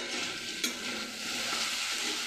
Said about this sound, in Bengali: এবার ঢাকনাটা খুলে একটু নেড়ে দেবো